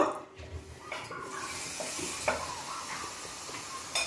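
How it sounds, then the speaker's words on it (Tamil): Water is poured into ground paste in a pan for pirandai rasam, a soft, faint splashing and trickling with a few small clinks, quiet and close. "ஒரு 3 கப் தண்ணி ஊற்றிடுங்க."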